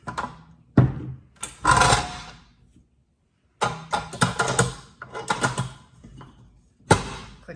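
A mixing bowl is fitted and locked onto a stand mixer during focaccia preparation. Irregular close knocks, scrapes and clunks come in short bursts separated by brief pauses, with no talking.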